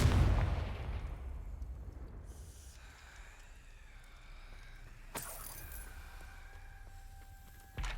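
A Confringo fire spell blasts in the video game Hogwarts Legacy, opening with a loud explosive burst that decays into a rumbling tail, then a softer magical shimmer and a second sharp crack near the end, with no talk.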